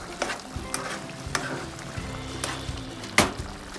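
A spoon stirs chicken caldereta in a pan, with repeated scraping knocks against the metal over a soft bubbling simmer and one sharper clack near the end, no talking.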